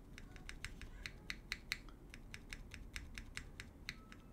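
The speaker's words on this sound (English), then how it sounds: "here's our keyboard. I only mod the spacebar" Mechanical keyboard typing with only the spacebar modded using Tailor's stab mod: a quiet, close run of crisp, evenly spaced keystrokes with a few sharper clacks.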